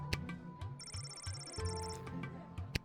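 A telephone rings in the video game Lil Guardsman, a short burst of bright repeated trills, clear and close, over a low background hum from the game.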